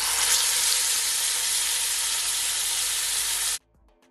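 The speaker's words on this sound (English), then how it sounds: "this is the same pot that I use to fry my salmon" Salmon frying for honey jerk salmon in oil in a pot: a loud, steady sizzling hiss that runs unbroken and then cuts off abruptly near the end.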